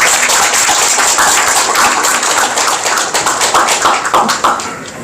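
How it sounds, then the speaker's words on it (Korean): Sustained audience applause fills a lecture hall at a Korean academic forum on constitutionalism, dense overlapping clapping steady and loud for the full length, tapering slightly at the end, with no voices over it. "여러분 박수로"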